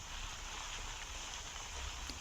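Rain falling in the Granny 3 horror game rain mod, a faint continuous hiss that holds level throughout without any clear breaks.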